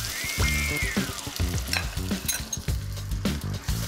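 Eggs hitting a hot pan set off a steady, close sizzle, with some stirring clatter and scraping running through it, and no talk over it.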